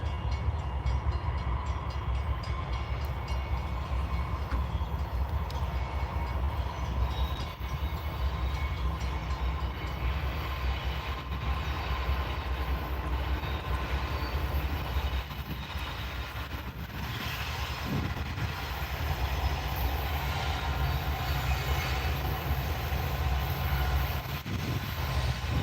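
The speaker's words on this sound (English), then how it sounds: "look at that string of locomotives" A string of locomotives passes trackside, giving a continuous loud rumble and rolling rail noise that holds steady for the whole stretch, with no talk.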